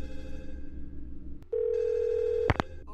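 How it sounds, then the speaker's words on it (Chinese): A telephone rings on an opposite train platform in the video game Twilight Syndrome: a steady electronic ring tone holds for about a second, then breaks into short, sharp pulses after a murky, low rumbling start. "响起的却是对面月台的电话"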